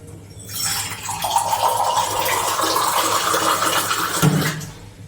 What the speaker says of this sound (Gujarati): જોઈતા પ્રમાણમાં પાણી નાખવાનું